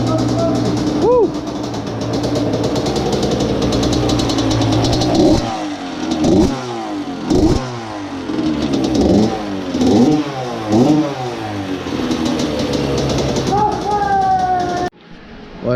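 A 160 cc mini bike engine revving hard in repeated rising and falling bursts, loud and close, with a rough idle between pulls and people talking over it outdoors.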